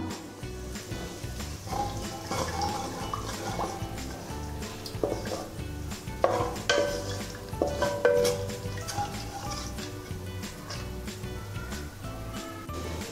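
Duck curry masala thinned with water is stirred in a pan for a Kerala-style Kuttanadan duck curry, giving a steady wet scraping and sloshing that runs continuously at moderate level, with occasional utensil clinks.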